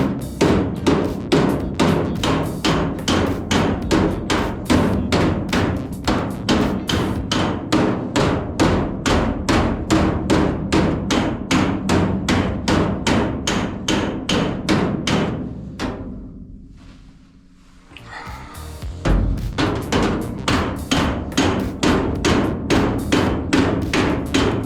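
Hot steel body panel of a 1949 Jeep Willys pickup being hammered: loud, rapid, evenly spaced metallic blows in a long steady run, with a brief pause partway through before the striking resumes at the same pace.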